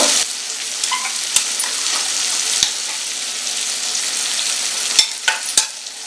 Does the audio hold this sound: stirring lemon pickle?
yes